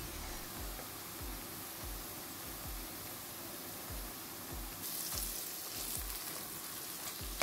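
Onions browning in a pan with ground spices give a steady, even sizzle, broken by soft rhythmic thumps of stirring. It is close and fairly quiet, with no talking.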